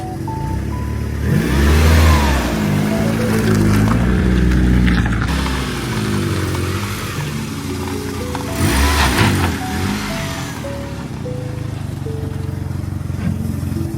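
A car engine runs steadily close by, its pitch rising and falling as it is revved several times, with a whining tone sweeping up and down over the rumble; no talking over it.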